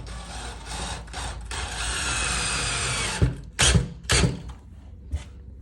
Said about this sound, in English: I'm going to set a couple screws.